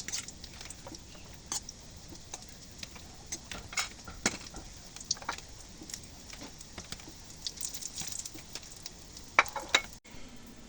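Fried rice with a little tomato sauce is stirred in a pan, a steady soft sizzle under repeated scrapes and clinks of a spoon against the metal, close and continuous with no talk.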